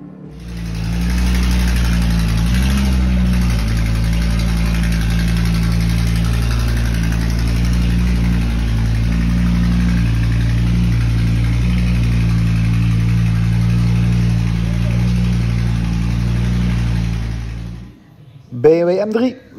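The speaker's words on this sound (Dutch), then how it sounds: "We gaan de Audi RS3 even zonder uitlaat naar achter rijden" An Audi RS3 engine runs with no exhaust fitted, a loud, raw, deep drone that idles steadily with a slight rev near the start, then cuts off abruptly before a voice speaks briefly at the end.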